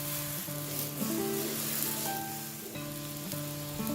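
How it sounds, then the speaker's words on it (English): Salted water at a rolling boil in a wok, heated for scalding French beans before a Chinese-style stir fry, gives a steady bubbling hiss that runs throughout beneath background music. "When the water has come to a rolling boil, add half a teaspoon of salt and continue to boil the water."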